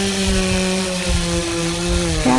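A steady, droning engine with a buzzing harmonic tone runs continuously, shifting pitch slightly near the end, like a chainsaw idling and revving.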